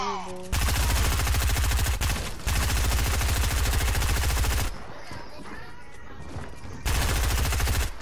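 Rapid automatic gunfire rattles through a video game 1v1 shootout, loud and close, in a long sustained burst, then a brief quieter gap with muffled voices before another fast volley.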